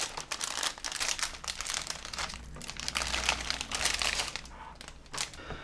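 A plastic bag holding parts for an HG Mobile Suit Gundam G40 model kit is opened and handled, giving continuous close crinkling and rustling with some sharper crackles, with no talk.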